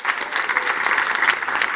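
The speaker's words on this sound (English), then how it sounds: "A big applause for the panel." Loud, close applause from an audience welcoming a youth advisory panel at a youth dialogue on climate adaptation action, a brisk, dense clatter of clapping that holds steady throughout.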